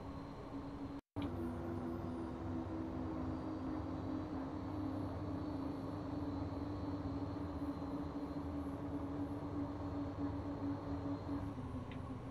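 A Dash 8 Q400 turboprop in the X-Plane 11 flight simulator holds a steady, even engine drone with a sustained tonal hum, continuous and unchanging apart from one brief dropout near the start.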